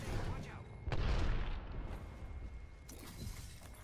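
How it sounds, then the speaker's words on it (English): A grenade blast goes off in the Apex Legends battle royale shooter, a heavy booming burst with scattered debris and crackle trailing after, as players talk over the action. "Oh, threw a grenade."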